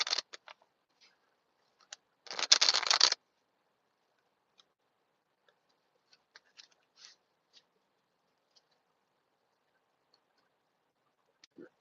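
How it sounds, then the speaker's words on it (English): A deck of tarot cards is riffled in one short, crisp burst, fairly close, with a few faint taps and clicks before and after in an otherwise quiet room. "Look, I just shuffled."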